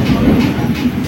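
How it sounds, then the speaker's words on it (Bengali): A passenger train pulling out of Howrah station rumbles steadily from inside the carriage, a brief low, loud rolling noise. "আমাদের ট্রেন হাওড়া ছাড়লো।"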